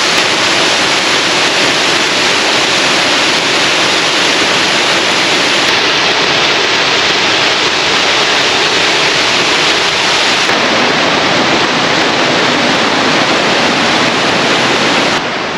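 A waterfall on the Tumalo Falls loop trail near Bend, Oregon roars in a loud, continuous, broadband rush that stays steady throughout, with no voices.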